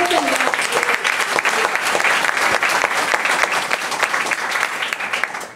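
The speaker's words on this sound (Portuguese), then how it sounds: "aplaudir o Senhor" A church congregation bursts into loud, sustained applause during a worship service, dense rapid clapping filling the room from start to finish, with a short voice heard at the very beginning.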